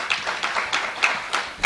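Small group clapping at a public relations workshop on policing, a short round of close, uneven hand claps.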